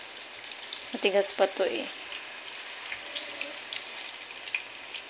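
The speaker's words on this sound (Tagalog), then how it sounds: "Magpiprito muna at mamaya yung asukal." Kamote cue sweet potato chunks fry in hot oil with a steady, soft sizzle and scattered pops, while a person speaks briefly near the start.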